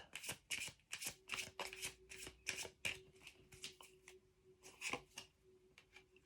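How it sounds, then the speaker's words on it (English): Tarot cards being shuffled by hand, a quick series of close riffling and flicking bursts in an uneven rhythm, with a faint steady hum underneath and no talking. "Now let's see the next card."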